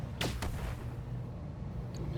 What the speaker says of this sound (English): I really need to fix that stutter when we're firing the Gauss rifle